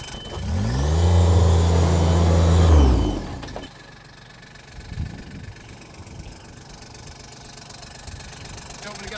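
A four-wheel-drive vehicle's engine revs loudly for about three seconds while the drive fails to engage, then drops to a low idle with brief rumbles and faint voices.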